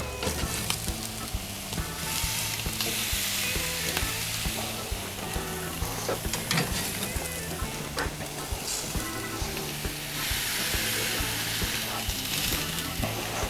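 Dry-aged 35-day ribeye steaks sear on a GrillGrate over a Weber kettle grill, giving a loud, continuous crackling sizzle with scattered pops and occasional clinks of tongs, close up and with no talking.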